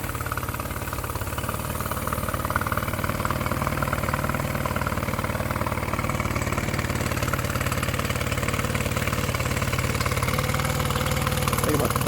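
A Mercury 9.9 outboard motor bought off eBay idles steadily, a close, even mid-pitched burble with a faint metallic rattle that holds its pace with no revving.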